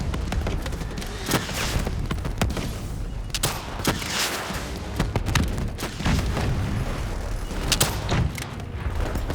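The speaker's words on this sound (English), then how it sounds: "Javelin missiles incoming!" Javelin missiles strike in Call of Duty: Black Ops III, loud repeated booming impacts and gunfire crackle densely packed in a continuous chaotic battle din.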